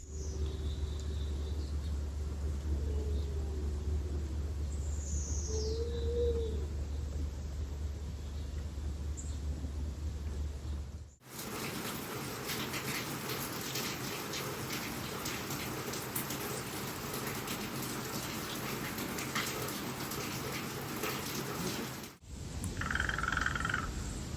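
Evening ambience on a cottage's screened-in porch on Campobello Island: a steady chorus of frogs croaking with a soft rain-like hiss and low rumble, continuous and moderately close, with no talking.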